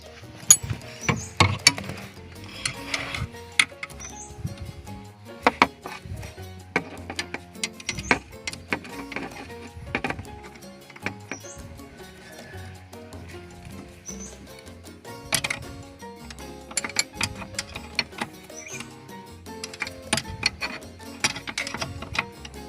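Metallic clicks and ratcheting from a size 14 wrench tightening the lock nut on a clutch pedal adjustment, heard as quiet, irregular taps and ratchet ticks spread through the stretch with no talking.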